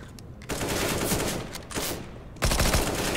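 Automatic gunfire from Counter-Strike: Global Offensive, loud dense bursts that fill the clip, with a brief lull near the middle and a heavier burst at the end.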